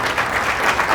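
An audience applauding at a campaign event, a dense, steady wash of clapping from many hands that fills the moment.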